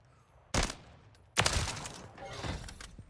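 Two sharp bursts of SVA 545 rifle fire from Modern Warfare 3 crack out close and loud, the second burst trailing into a rattling decay of further shots and reverberation.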